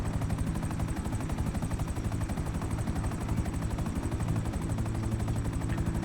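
A Buzzard attack helicopter in a video game thumps with a steady rotor beat under rapid bursts of gunfire as enemy helicopters close in, loud and continuous throughout.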